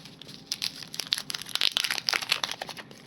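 Scissors cut a paper sticker in a rapid run of crisp snips and crinkling rustles, close and fairly quiet, with no voices.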